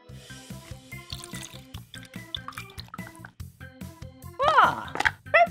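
Water is poured through a funnel into a balloon, giving soft drips and liquid trickling under a bouncy rhythmic music track, with a voice briefly rising near the end.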